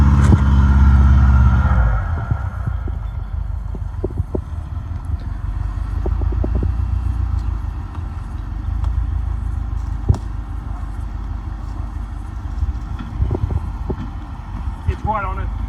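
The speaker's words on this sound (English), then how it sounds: "one more bonus clip of the Foz having another go at this same little rock face" A Subaru Forester XT strains up a small rock face off-road, its engine giving a low, continuous rumble with scrapes and knocks from tyres and underbody, close and fairly loud after a louder opening surge.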